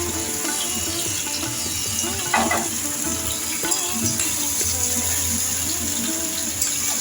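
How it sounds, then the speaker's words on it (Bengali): Carrots and onions fry in a pan for navratan korma, making a continuous sizzle close by with a watery hiss and an occasional stir. "এখন সবজিগুলো খুব ভালো করে ভেজে নিতে হবে।"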